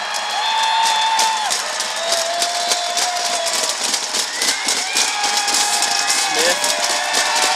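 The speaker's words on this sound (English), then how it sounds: "Gestures to the crowd, making a lot of noise." Crowd at a college men's basketball game between Gulf Coast State College and Northwest Florida State College, loud and sustained cheering and applause filling the arena with a dense steady roar and scattered whoops.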